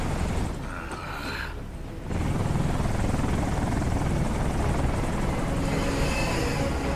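Helicopter rotor noise from the video game Metal Gear Rising on Xbox 360, a loud continuous broadband roar that swells after a brief dip and then holds steady with no talk over it.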